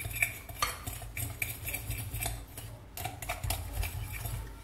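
Flour, yeast, cinnamon and salt being stirred together in a bowl for a guava cuca crumb, a steady scraping and clinking of a utensil against the bowl, close and continuous with no talk.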